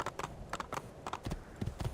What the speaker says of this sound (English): Your only mode of transport is this horse